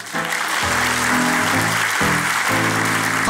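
A crowd clapping steadily on a Turkish TV show, a dense, continuous burst of applause with some overlapping tones beneath it.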